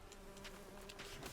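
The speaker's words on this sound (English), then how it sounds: "Bees! With the bees!" Bees in a video game make a faint, steady buzzing drone that runs through the whole short moment, distant and quiet with no voices.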